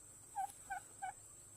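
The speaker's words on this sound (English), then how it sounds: "That's a good looking chickens too" Chickens on a Missouri homestead give three short, faint clucking calls, evenly spaced, close by in a quiet yard.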